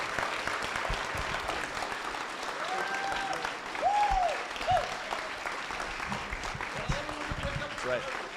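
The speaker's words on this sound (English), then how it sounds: "Please give a round of applause to our two debaters." An audience applauds two debaters, both MPs, after a political debate. The clapping is dense and sustained, with faint talk and cheering mixed in beneath it.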